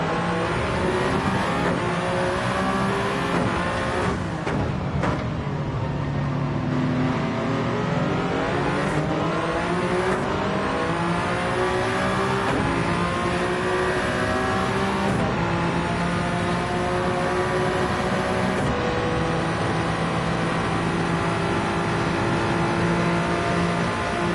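Gran Turismo-style Gr1 race cars at full speed on the Daytona road course, engines roaring continuously with rising and falling revs, repeated gear shifts and several cars passing close by, loud throughout.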